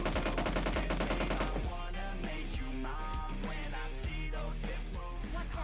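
Automatic gunfire in the mobile battle royale game PUBG Mobile, dense rapid bursts of shots over a steady game soundtrack, loud and continuous through the whole stretch.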